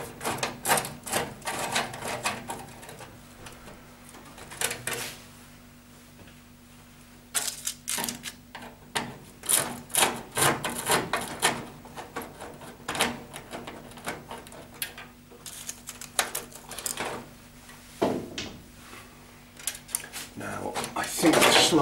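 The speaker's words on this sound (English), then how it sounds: "There's two screws on this, so we need to undo these." Metallic clicks and scrapes of two screws being undone on an old convection cooker, a run of irregular handling taps and clatters close by, with a person talking in between.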